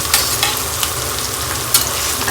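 Bajra rotla pieces being sautéd and browned in a pan for vaghārelo rotlo, a steady close sizzle with a few sharp crackles and stirring scrapes throughout, no voices.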